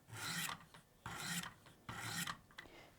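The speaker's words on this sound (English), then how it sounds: "using your highest grit diamond stone and the widest angle that you can on your sharpener, you're just going to do a couple light strokes" Diamond sharpening stone drawn along a knife edge on a sharpener, three distinct gritty rasping strokes in an even rhythm, close and clear with no speech.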